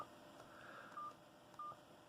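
Key tones from an Aspect Two MAXI-KEY big button phone: three short, faint electronic beeps spaced apart over a quiet background.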